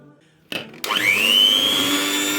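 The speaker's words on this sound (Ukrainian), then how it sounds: "Так, міксером збиваємо." An electric hand mixer switches on with a sharp start and rises to a steady high whine as it beats, loud and close, with no talk.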